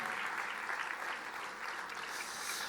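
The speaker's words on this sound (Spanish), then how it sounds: "Fuerte ese aplauso de alabanza al Señor." A church congregation clapping steadily and loudly in praise during a service, a continuous burst of applause with no voices over it.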